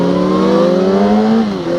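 Yamaha R6 streetfighter motorcycle with an Akrapovic exhaust revs up loudly nearby, its engine note rising steadily before dropping off near the end.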